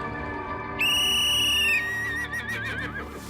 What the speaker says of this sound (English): She blew the whistle